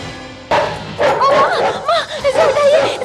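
A police dog squad's dog barking and yipping close by at a frightened woman, sharp yelps in quick bursts. A woman's pleading, whimpering voice is mixed in with the barks.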